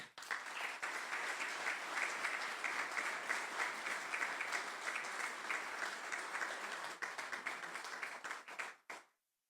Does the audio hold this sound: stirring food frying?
no